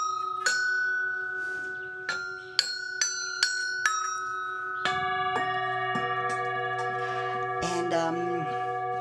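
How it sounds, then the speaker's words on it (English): Tuned bells from the monkey temple in Varanasi are struck one after another, each bright, close ring sustaining and overlapping into a shimmering cluster of tones, then denser layered ringing later on. "I found these bells there, beautifully tuned."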